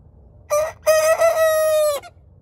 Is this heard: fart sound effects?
no